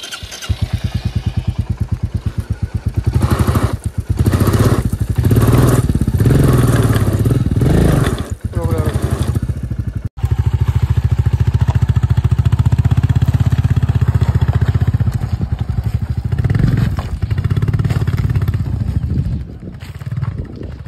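A motorcycle is being taken out of a camp near Rishikesh along a rough path. The engine runs loud and close for the whole stretch, revving and labouring unevenly, with some rattling clatter over the rough ground.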